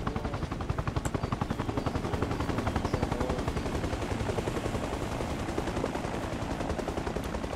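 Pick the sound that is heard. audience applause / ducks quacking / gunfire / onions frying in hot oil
gunfire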